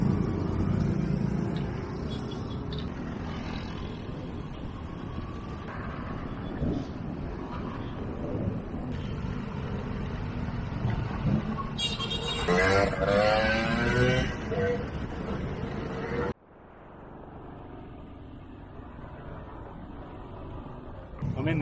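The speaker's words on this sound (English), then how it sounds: "The traffic's thinning out. Still pretty damn noisy" Busy road traffic in the Philippine suburbs, heard from a touring bicycle: a constant engine rumble and wind buffeting with vehicles passing close by, before the noise drops suddenly near the end.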